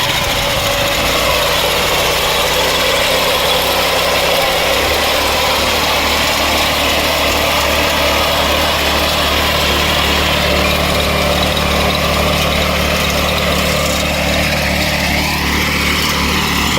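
A Kisan Kraft soybean cutting machine's small engine runs loud and constant at close range, with a droning, buzzy hum. Its pitch shifts slightly near the end.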